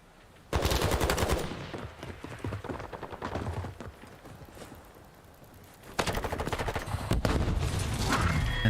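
Rapid automatic gunfire from a Call of Duty match, loud sustained bursts that start abruptly, thin out into scattered shots and a lull, then surge back into dense firing.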